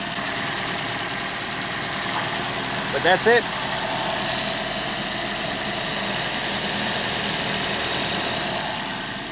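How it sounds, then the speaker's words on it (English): A Scion iQ's small three-cylinder engine idles steadily with an even, moderate hum, while a voice speaks briefly over it. "It's a 3-cylinder engine now."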